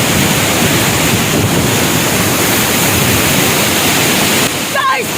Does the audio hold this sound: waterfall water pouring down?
yes